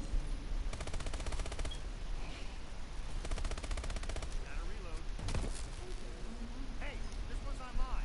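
Bursts of automatic gunfire in Call of Duty, two long rapid volleys of machine-gun fire followed by scattered shots, loud and close, with game sounds and a voice talking over them.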